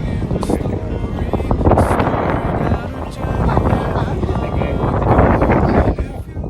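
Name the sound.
wind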